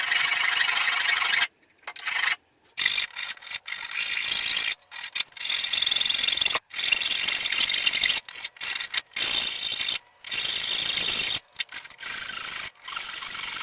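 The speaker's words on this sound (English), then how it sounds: "I then filed the top of each pipe." Steady back-and-forth rasping of a metal file against the tops of metal pipes, in long strokes with brief pauses, close and continuous.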